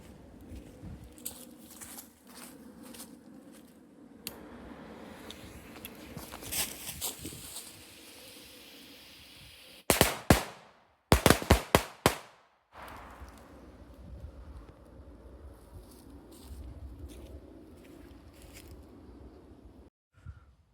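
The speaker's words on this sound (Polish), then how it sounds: "Słoneczko z 12 sztuk petard Explosive 3 partia 2025." An Explosive 3 firecracker set of twelve pieces, 2025 batch, goes off in a rapid string of loud sharp bangs around ten to thirteen seconds, surrounded by quieter crackling and outdoor rustling.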